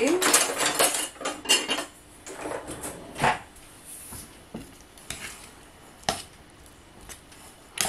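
A utensil mixing cooked pasta in a dish makes busy clattering and scraping at first, then sparser, separate knocks of metal against the dish.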